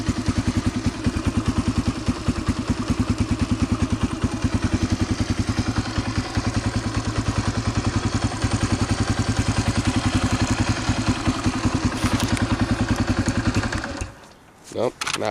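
A Yamaha TTR125 dirt bike runs after a cold winter kick start, its engine chugging at a fast, even idle throughout, close and loud, then cutting off briefly near the end before catching again.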